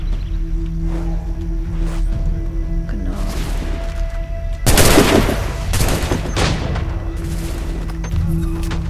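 Gunfire in the video game Assassin's Creed 3 erupts as a sharp, loud burst midway through, followed by echoing blasts and a steady game ambience behind it.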